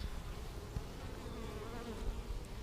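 Honeybees buzz steadily at the lip of a hive entrance, a dense, continuous hum with no voices, close and moderately loud throughout.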